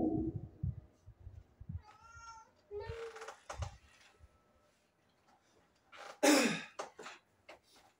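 A cat meows a few times, short plaintive calls spaced out among soft rustling and a breathy sigh, close by and fairly quiet.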